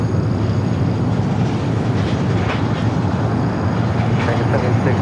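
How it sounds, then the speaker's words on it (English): An Airbus A350 airliner arriving from Atlanta approaches at Los Angeles airport, a broad steady roar of engine noise that stays loud throughout, with a voice talking over it. "See that as it gets a little bit closer to us. The A350, again, coming from Atlanta."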